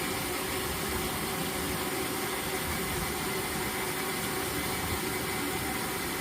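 A washing machine running its rinse cycle on deep fill, giving a steady, even whooshing hum and churn that holds at one level throughout with no talk.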